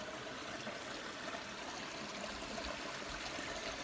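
Water of the Rumli stream near Islamabad rushes steadily over its bed as a constant, even wash of close, moderately loud flow with no voices.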